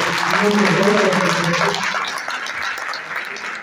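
An audience at an award ceremony applauds in a dense burst that gradually fades over a few seconds, with speech over it.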